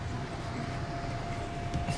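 Steady rumble of a Thomas the Train ride on the way to Mt. Fuji, with a constant low drone and a faint high whine running throughout at even loudness.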